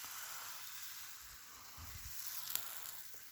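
Crêpe batter cooking on an electric crêpe maker, a faint steady sizzling hiss close by, with a few soft low bumps and no voices.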